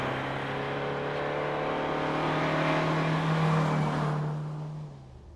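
A 1993 Vauxhall Cavalier engine drives up a hill climb course, a steady close drone with a rising rev in the middle before easing off toward the end, no talk.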